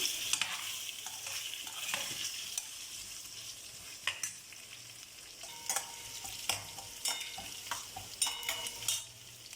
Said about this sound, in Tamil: ஆயிலில் நல்லா ரோஸ்ட் ஆகி வரட்டும், அப்புறம் மசாலா போட்டுக்கலாம்